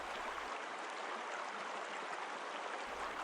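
River water flowing in a steady, even wash, faint and continuous with no pauses or other sounds.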